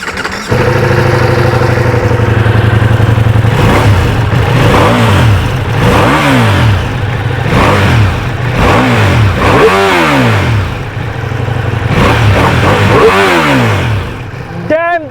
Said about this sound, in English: the best part about this motorcycle is the exhaust note